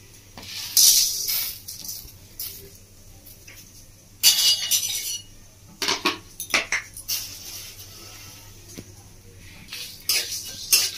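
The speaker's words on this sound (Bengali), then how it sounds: "আমি একটা শুকনো খোলায় ভেজে নিচ্ছি" Whole cumin, black peppercorns and coriander seeds are dry roasted in a dry pan, with intermittent clinks and scrapes of a spoon stirring against the metal and quiet gaps between them, and no talking.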